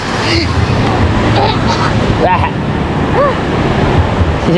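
Ocean waves breaking on a summer beach in Pangasinan, a loud continuous surf roar with wind buffeting the microphone and voices calling out over it.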